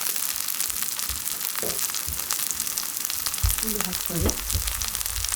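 Korean savory vegetable pancake batter sizzling and frying in oil in a preheated pan over high heat, a dense steady crackle throughout with a few soft scraping and handling sounds.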